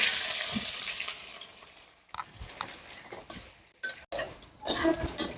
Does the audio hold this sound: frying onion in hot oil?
yes